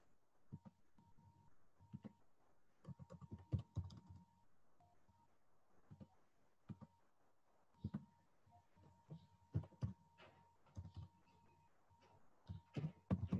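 Typing on a computer keyboard, heard as quiet, close key clicks in irregular bursts with short pauses between them. A faint steady tone sounds now and then underneath.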